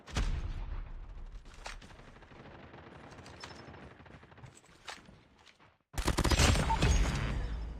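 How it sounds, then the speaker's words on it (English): Gunfire in the video game Call of Duty Mobile: scattered shots ring out, then after a brief lull a dense, loud burst of rapid automatic fire fills the end. "This gun sounds so good right now."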